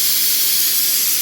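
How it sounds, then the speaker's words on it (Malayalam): A pressure cooker lets off steam while pumpkin and beans cook, a loud, steady high hiss that runs unbroken from start to end with no talking. "നമ്മുടെ കുക്കർ വിസിലടിക്കുന്നുണ്ട്."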